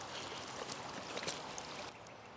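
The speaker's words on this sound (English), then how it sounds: "Water's flowing down, but it's also flowing everywhere else." Floodwater from melting snow running through a farm trench, a faint steady rushing and trickling, continuous with no speech.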